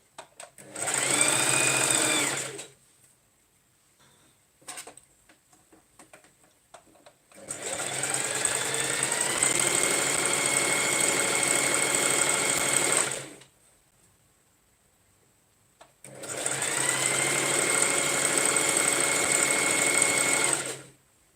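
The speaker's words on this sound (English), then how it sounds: "I'm going to carry on sewing" A sewing machine stitches fabric in three long runs of steady mechanical whirring, with quiet gaps between bursts, close and loud.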